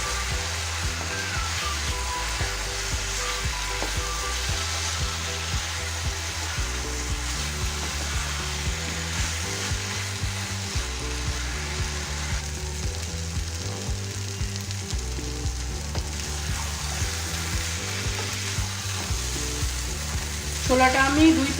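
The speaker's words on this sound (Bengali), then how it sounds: "এবার আমি ছোলা আলুটাকে ভালো করে মশলার সঙ্গে কষে নেব।" Boiled chickpeas and hand-broken potatoes fry with spices in a pan for chole, making a long, continuous sizzle with occasional stirring scrapes. The sound stays fairly even throughout and swells slightly near the end.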